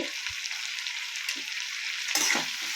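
Sliced potato and brinjal sizzle steadily in hot oil in a pan, with a spatula scraping and stirring through the frying near the start and again toward the end.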